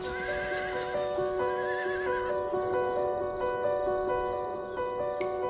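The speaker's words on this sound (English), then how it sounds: "The name is to our horse is Mahanga" A horse on Rapa Nui, Easter Island, gives a couple of wavering whinnies over a steady background drone, with no speech.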